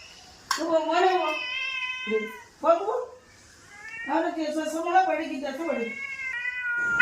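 A cat meows several times in drawn-out, wavering cries, fairly close, with short pauses between calls.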